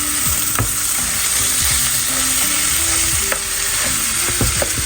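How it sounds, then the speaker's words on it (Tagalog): Ground pork, one kilo, sautés in a hot pan for a Filipino-style spaghetti sauce, giving a steady loud sizzle throughout with occasional scraping stirs and clinks, and no talking. "Saute. So ground pork, 1 kilo ground pork."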